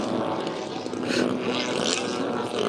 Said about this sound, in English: Well, the engine's still running.